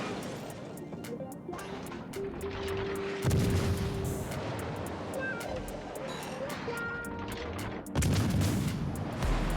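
Naval gunfire from a warship in World of Warships: Legends, armor-piercing and high-explosive shells fired in heavy booming salvos, with loud low blasts and rumbling impacts recurring over continuous battle noise.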